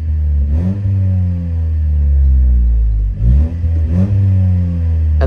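A 10th-generation Honda Civic Si engine revs several times after a valve cleaning, its pitch sweeping up and settling back between blips, loud and close with no talk over it.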